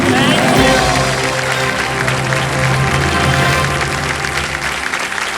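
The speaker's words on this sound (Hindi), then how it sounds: "वो ताली बजाने जा रहे थे ना आप, बजा दीजिए" A studio audience on the quiz show Kaun Banega Crorepati breaks into loud, sustained applause, with a host's voice speaking over the clapping.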